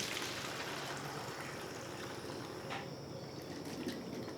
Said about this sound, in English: We're just gonna fill up this water bottle.